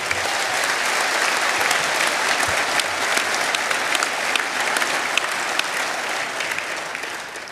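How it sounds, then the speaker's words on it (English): A packed crowd at a Brexit Party rally in Peterborough gives loud, sustained clapping that holds steady for several seconds and then eases slightly, with no speech over it. "you deserve a round of applause"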